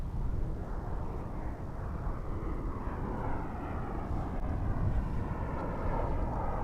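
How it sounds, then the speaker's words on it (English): An American Airlines jet inbound from Mexico City on approach at DFW airport, a steady broad engine roar that holds loud and close throughout with some wind noise on the microphone. "here comes American flight from Mexico City"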